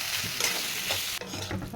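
A vegetable mixture being stirred and fried in a pan, a continuous close sizzle with scraping spatula strokes, briefly dipping then resuming.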